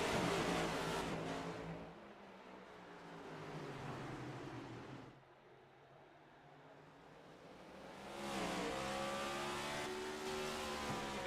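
A pack of race cars in the iRacing sim roars back up to speed at the Martinsville restart: engines surge loudly, dip quieter for a few seconds, then swell again with rising revs.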